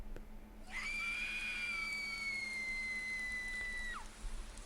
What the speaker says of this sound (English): A piercing scream from outside startles you awake.